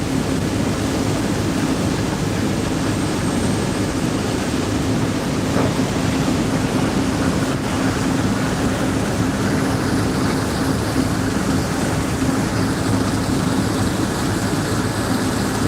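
Thames Clippers river boat engine running right beside the listener while cruising the Thames under Tower Bridge, a loud, steady, broadband roar with a constant low hum throughout and no talk.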